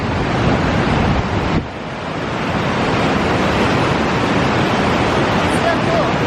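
A waterfall at Burgess Falls State Park, Tennessee roars as a continuous broadband rush, loud and steady with a faint wind-like texture and no distinct breaks.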